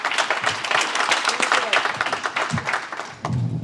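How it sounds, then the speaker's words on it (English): An audience applauds after a panel of young siblings at the 2024 Maangaar Summit, dense clapping from a crowd continuing steadily throughout. "Let's give them a round of applause, please."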